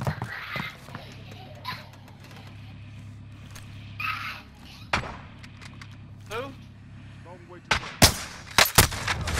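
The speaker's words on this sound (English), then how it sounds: "they keep shooting" Gunfire in a multiplayer shooter video game, with sporadic shots through the middle and a loud burst of sharp, closely spaced reports near the end over a steady low engine-like drone and brief game voice chatter.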